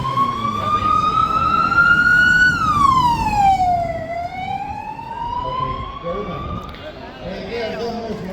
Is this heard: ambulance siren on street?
yes